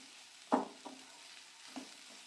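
Grated carrot frying in a pan for Bengali carrot payesh: a soft, quiet sizzle broken by a few distinct scraping stirs, one sharp and two gentler, with no voices.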